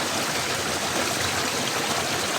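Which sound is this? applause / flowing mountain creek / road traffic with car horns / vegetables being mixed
flowing mountain creek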